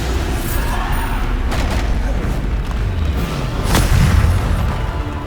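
Bombarda explosion spells in Hogwarts Legacy make deep booming blasts with sharp cracks, several in quick succession over a constant rumbling bed, loud and close.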